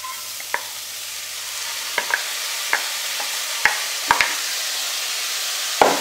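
Precooked lentils stirred into mushrooms frying in a pan over medium heat make a soft, continuous sizzle, punctuated by a handful of sharp spoon-and-pan scrapes and clicks at irregular intervals.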